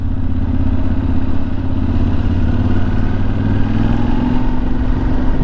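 A motorcycle is ridden at high speed with a helmet-mounted microphone, giving a loud steady engine drone buried in constant roaring wind buffeting, with no voices.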